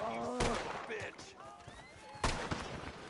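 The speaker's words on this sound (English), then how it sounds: "I'm just walking past the lawmen that are shooting you" Scattered gunshots from lawmen firing in the town of Valentine in Red Dead Redemption 2, several sharp distant cracks spaced through the clip amid a busy mix with voices speaking.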